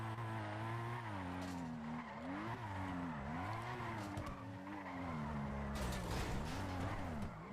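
Tires skid and squeal continuously as a Lamborghini drifts in a racing video game, with the engine droning and pitch sweeping up and down through the slides, loud and close throughout.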